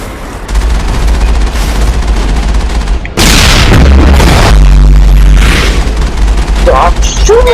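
Heavy gunfire in the game Mass Effect: rapid automatic bursts and booming blasts, loud and near, pounding almost without pause and surging after a brief drop.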